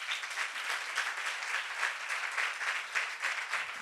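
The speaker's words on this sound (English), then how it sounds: "Sujata auntie, I think you deserve a big applause." Steady applause from a seated audience rises for Sujata auntie, an even wash of clapping that holds at moderate loudness without pause.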